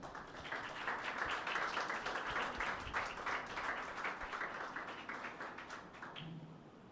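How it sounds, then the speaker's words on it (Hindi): A church congregation applauds, steady dense clapping from many hands in a large room, fairly faint, tapering slightly toward the end. "यीशु के लिए तालियां बजाएं।"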